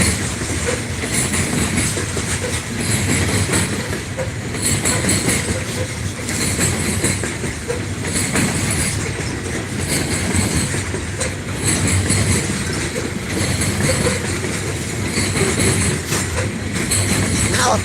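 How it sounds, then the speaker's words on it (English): A train rolls past trackside at Thurmond, West Virginia, its wheels clattering in a steady rhythmic clickety-clack with occasional squeals, loud and close for the whole stretch, with no talk. "I thought this train was going to be behind that grain train"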